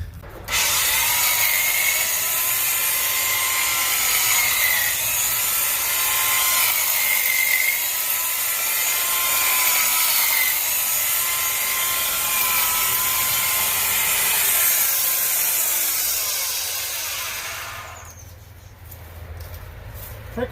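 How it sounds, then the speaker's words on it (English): An electric hedge trimmer buzzes steadily while cutting prickly plants on a hot day, a continuous high whine that runs for about seventeen seconds before cutting off. "Let's grab the trimmer and the ladder."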